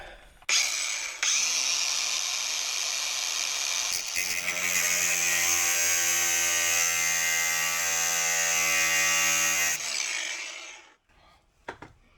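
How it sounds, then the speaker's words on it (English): An angle grinder cuts a notch into the chassis metal of a Ford Mondeo Mk3 ST220, a loud sustained high whine that shifts pitch midway as the disc bites, then spins down at the end. "going to put a notch in it with the grinder and try and crack it off that way."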